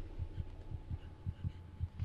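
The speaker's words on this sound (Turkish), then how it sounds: "Kalp atışlarım hızlandı." A steady heartbeat thumps in the video game Among the Sleep, its low double pulses repeating evenly and fairly quickly, close and muffled under a faint hum, with no talk.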